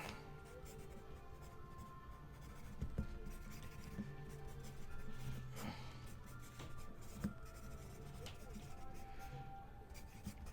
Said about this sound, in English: Let me just write something down.